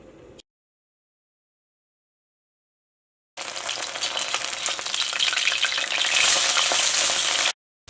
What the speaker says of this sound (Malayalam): ഓയിൽ നന്നായിട്ട് ചൂടായിട്ടുണ്ട്. ഇതിലേക്ക് ഇങ്ങനെ ഓരോ പീസായിട്ട് ചിക്കൻ ഇടാം.